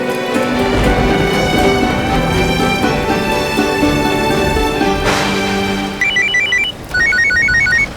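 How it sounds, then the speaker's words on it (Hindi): A phone rings in a steady melodic repeating tone pattern for several seconds in a TV drama scene, loud and close, with a brighter higher-pitched chime pattern joining near the end; no one speaks. "ये लो, प्रथम का फोन आ रहा था"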